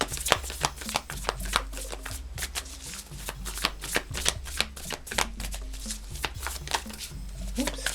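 A deck of tarot cards shuffled by hand up close, giving a steady run of crisp, rapid card clicks and soft riffling slaps that continue without pause.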